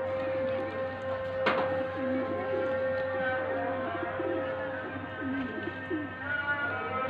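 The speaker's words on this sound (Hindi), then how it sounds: "आ ये तो कबूतर" A pigeon coos steadily and repeatedly at close range while being fed grain, with one sharp click partway through.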